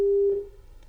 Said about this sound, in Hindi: फोन लाइन कट गया है